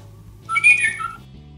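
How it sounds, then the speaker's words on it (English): A short electronic chirp from a Little Live Pets My Love Birds toy lovebird, a bright warbling whistle-like tone lasting under a second, clear and close over a quiet low hum. "They make chirping sounds, and they sing songs"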